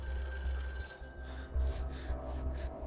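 A telephone rings repeatedly as a hostage-taker ignores the call, five short trilling bursts pulsing at a steady rhythm over a low background hum, moderately loud and without talk.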